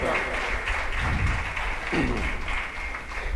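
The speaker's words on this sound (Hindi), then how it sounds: "आप इनके लिए जोरदार तालियां बजाएं, जोरदार तालियां।" Audience applause at a Shrimad Bhagavat Katha religious gathering: dense, steady clapping that fills the whole stretch at even loudness, with a voice briefly audible underneath.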